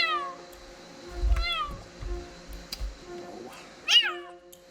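Two small kittens meow repeatedly at close range, high rising and falling cries with pauses between, alongside soft low bumping and handling noises.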